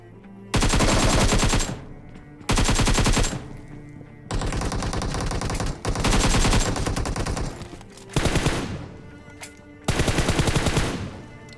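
Loud automatic rifle bursts in a PUBG Mobile classic match come in about six rapid strings of shots, separated by short pauses.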